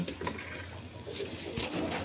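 A pigeon coos in low, soft, repeated murmurs, close by and fairly quiet, with no one talking.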